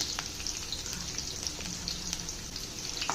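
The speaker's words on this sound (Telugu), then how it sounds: "గార్లిక్ జస్ట్ బ్రౌన్ అయ్యేదాకా ఫ్రై చేసుకున్నాను" Chopped garlic and cumin frying in hot oil, a dense, even crackling sizzle with occasional sharper pops, close and steady for a few seconds without any voice.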